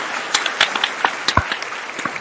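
A crowd applauds in a steady wash of clapping with scattered sharper claps throughout, fairly close and without talk over it.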